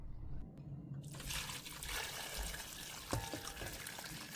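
Liquid strained from cooked onions pours into water, a continuous trickling, splashing flow heard close and fairly quiet, with a brief clunk partway through.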